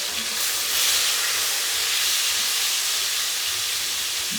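Chipotle shrimp dropped into a hot pan give a loud, steady broadband sizzle that hisses continuously without pause.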